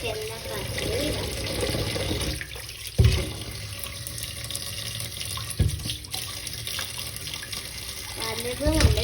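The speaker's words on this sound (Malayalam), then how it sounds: "ഇത് നമുക്കിനി കഴുകി നല്ല വൃത്തിയാക്കി എടുക്കാം" Greater yams washed under a running kitchen tap, a steady hiss of flowing water with splashes and a few knocks as the tubers are handled.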